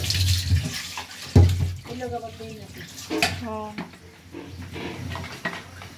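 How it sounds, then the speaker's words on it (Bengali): Water pours steadily into a pot of rice with a splashing rush, while people talk over it. "এই যে পানিটা দিয়ে দিল"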